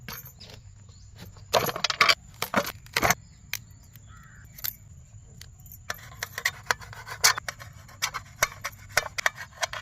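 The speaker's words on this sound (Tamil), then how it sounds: "பூசணிக்காயா கட் பண்ணிக்கலாம்." A knife cutting pumpkin for pumpkin 65, with crisp, irregular rasping and chopping strokes, some in quick bursts and others spaced apart, close and fairly loud.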